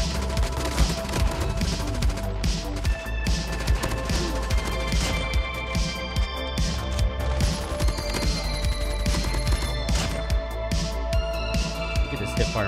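Dense gunfire and explosions from the mobile shooter Call of Duty Mobile, with rapid bursts and impacts filling the whole stretch over a constant background hum, and a voice talking faintly now and then.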